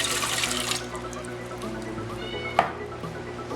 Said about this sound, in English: We are going to start by putting our ingredients into our bread machine, starting with our water.